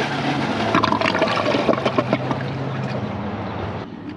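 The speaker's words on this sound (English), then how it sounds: "we're gonna flush two giant darts for all three toilets" Three household toilets flushing two large foam darts one after another, a 1998 Ingenium among them; a loud, steady rush and gurgle of draining water fills the clip before tapering off near the end.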